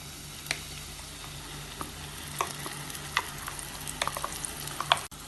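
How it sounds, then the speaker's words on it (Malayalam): Ground coconut paste being stirred and sautéed in oil with ginger and garlic for a Kerala-style pomfret fish curry: a soft continuous sizzle broken by sharp scraping stir strokes, close and quiet, with no talking. "ഈ അരച്ചെടുത്തത് ഇതേപോലെ എണ്ണയിൽ വഴറ്റുമ്പം നല്ലൊരു കൊതിപ്പിക്കുന്ന മണമാണ്."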